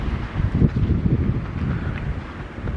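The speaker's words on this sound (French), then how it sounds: "il y a un petit peu de vent" Gusty wind buffets the microphone beside the snowy Canal Saint-Martin in Paris, a low rumbling rush that swells and eases throughout.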